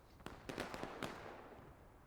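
Cannon fire in a Civil War video game, a few sharp booms in quick succession rolling into a fading rumble, distant and faint.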